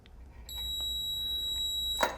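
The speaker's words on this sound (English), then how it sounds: "when the honey gets up to the bottom of this little float here, it'll sound an alarm" A float alarm on a honey extractor sounds a continuous high electronic beep, steady and fairly faint, ending with a brief clatter.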